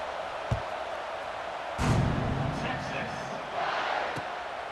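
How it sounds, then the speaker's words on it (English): Stadium crowd noise from College Football 26 during a Texas versus Penn State game, a steady murmuring roar with a few sharp thuds and brief swells of cheering, heard at a distance under the broadcast bed. "that last score took a little oomph out of this crowd"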